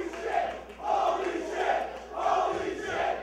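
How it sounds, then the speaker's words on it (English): A wrestling show crowd roars and cheers after a hard guitar shot, a sustained wash of many voices swelling in repeated waves at moderate loudness. "the crowd showing their appreciation for what was an extremely hard guitar shot"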